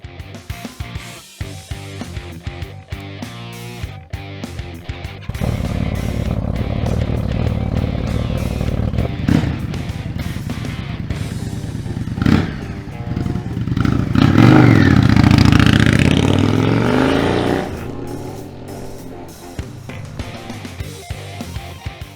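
Indian motorcycle engine running on a ride, a steady mid-pitched drone that rises into a louder surge of revving in the middle before easing back, with clattering at the start.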